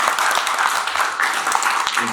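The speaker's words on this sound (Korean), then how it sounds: "박수 한번 쳐주시죠." An audience at a children's book launch concert claps steadily throughout, a continuous patter of many hands with a faint voice underneath.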